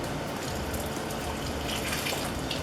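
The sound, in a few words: water being dumped out of canning jars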